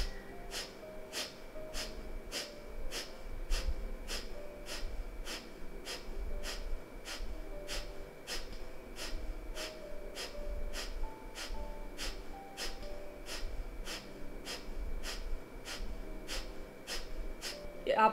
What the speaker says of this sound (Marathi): या पद्धतीने तुम्हाला कपालभाती प्राणायाम 4 ते 5 मिनटं कंटिन्यू करायचं आहे